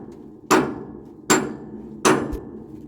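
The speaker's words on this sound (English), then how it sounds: "You're about to hear the sound of the hammer change, where the pipe actually comes apart from the header." Three heavy hammer blows ring against a pipe on a steam locomotive being scrapped, spaced evenly under a second apart, each a loud near metallic strike that decays quickly over a low background rumble.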